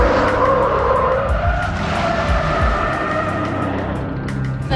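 A car skids through a turn during a staged chase, tires squealing loudly and continuously over a roaring engine, with the squeal sliding in pitch across the whole stretch.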